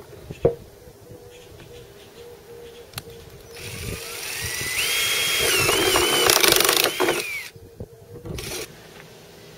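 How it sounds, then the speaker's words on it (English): A power drill with a step drill bit whirs up and grinds through material, the pitch rising and wavering as it cuts, with a few clicks and knocks before and after. "I'm using a step drill bit to punch the hole."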